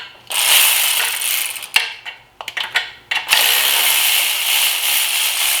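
Ratchet wrench working loose the manifold bolts on a Nissan Altima engine, with long runs of fast clicking close by, broken midway by a few short bursts and knocks before another sustained ratcheting run.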